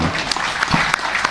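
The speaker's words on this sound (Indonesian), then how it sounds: "Tepuk tangan untuk Pak Bupati." Audience applause for a regent at an event, a brief burst of many hands clapping at close range.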